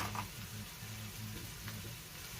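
Corned beef hash sizzles steadily in a new Lodge cast iron skillet with bacon fat and plenty of liquid, a close, continuous frying crackle with a few brief stirring scrapes.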